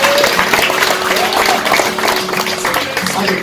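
A crowd at a veteran motorcycle giveaway at a dealership applauds the event hosts, dense sustained clapping filling the space, loud and close, with speech mixed in beneath.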